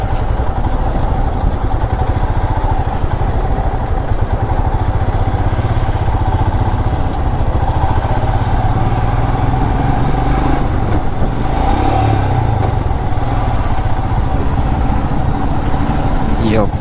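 A Royal Enfield Himalayan BS6 motorcycle cruises along a highway on a long ride, with a loud, continuous engine drone blended with heavy wind rush that holds steady throughout.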